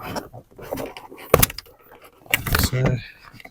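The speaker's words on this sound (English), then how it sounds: "You've got another door clip that should just pop out." A plastic door clip pops loose from a BMW X1 E84 rear door panel with a few sharp clicks and snaps, mixed with handling rustle while someone talks.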